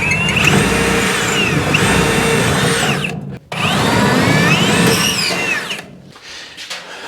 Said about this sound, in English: I'm gonna go ahead and just run a small drill bit through them